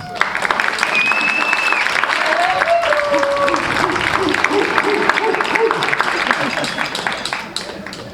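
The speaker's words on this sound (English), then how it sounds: "So can we give our parents a round of applause, please, students?" Students at a Cape Coral High School band spring concert give the parents a loud round of applause, thick continuous clapping mixed with high whistles, whoops and shouting voices from the crowd.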